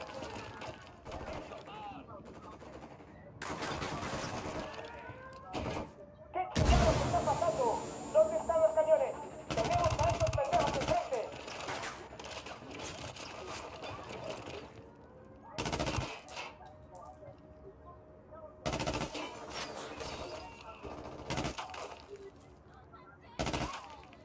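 Gunfire from a sniper engagement in Ghost Recon Wildlands, with loud bursts of shots recurring in clusters across the clip, over game ambience and intermittent talk.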